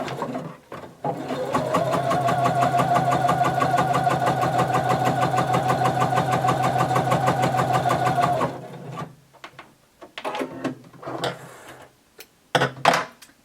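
Sewing machine running a long continuous stitch line about a quarter inch from the first on a DIY maxi dress, a steady rapid mechanical whir for several seconds, followed by brief handling noises and clicks.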